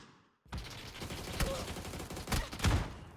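Gunfire in a shooter video game crackles in rapid, uneven bursts and volleys after a brief quiet start, moderately quiet overall with a few sharper peaks.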